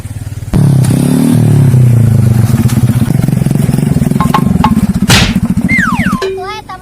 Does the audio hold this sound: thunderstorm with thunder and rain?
no